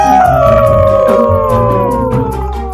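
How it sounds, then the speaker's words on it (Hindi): A pack of foxes in an animated story howls together, several long wavering howls layered over one another in a loud, sustained chorus with a slowly falling pitch, no speech over it. "फिर उन लोमड़ियों के झुंड ने नए राजा का अभिवादन करने के लिए एक साथ आवाज लगाना शुरू किया"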